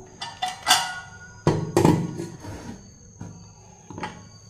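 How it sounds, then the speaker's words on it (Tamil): A lid set onto a cooking pot holding vegetables and water for soup, several close clattering knocks and scrapes in irregular bursts, loudest in the middle, with no talking. "இதை மூடி போட்டுருவோம்"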